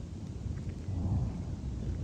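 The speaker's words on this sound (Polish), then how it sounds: "Słyszycie? To był grzmot" Thunder rumbles low and steady through a storm outdoors at a former POW camp (stalag), with a faint hiss that could be rain, swelling slightly halfway through, and no voices.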